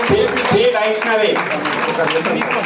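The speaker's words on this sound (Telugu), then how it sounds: "గట్టిగా చప్పట్లు కొట్టరు" A short burst of clapping from a group at an award ceremony for top students, with crowd murmur mixed in throughout.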